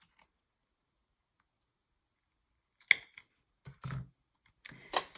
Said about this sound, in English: I'm going to take my little punch and just cut these little tickets out